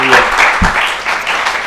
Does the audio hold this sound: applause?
yes